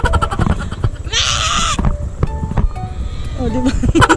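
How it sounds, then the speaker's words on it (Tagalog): A goat bleats repeatedly beside a running motor, wavering calls rising over the steady engine drone while people talk and shout nearby. "Kambing!"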